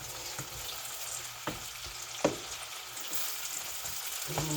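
Apples sauté in a pan, a low continuous frying sizzle with occasional sharp clicks of a utensil against the pan, quiet and without speech.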